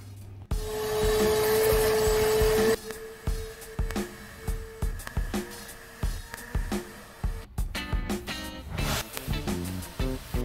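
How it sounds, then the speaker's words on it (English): A vacuum cleaner whirs loudly for a couple of seconds, then shifts to a series of bumping, scraping strokes as the nozzle moves around the interior of a 1989 K1500 truck. "I'm gonna vacuum all this out"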